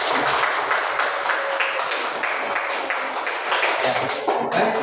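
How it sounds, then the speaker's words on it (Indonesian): A crowd in a classroom applauds, dense continuous clapping held at an even loud level throughout, with no gaps. "Kita beri aplaus dulu."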